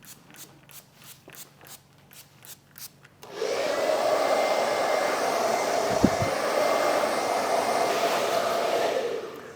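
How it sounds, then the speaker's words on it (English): A handheld hair dryer blow-drying a woman's hair switches on after a few soft clicks and runs as a steady, loud whooshing roar, close up and alone, with a faint brief thump midway. "So let's go ahead and blow dry."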